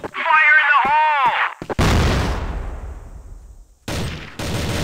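A grenade thrown in a Counter-Strike match on the Factory map: a shouted voice is followed by a sharp booming blast that rumbles and decays over about two seconds, then another abrupt burst of noise.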